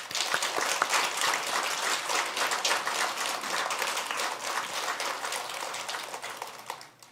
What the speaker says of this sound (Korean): 우리 서로에게 한번 감사와 사랑의 박수를 한번 격려했으면 좋겠어요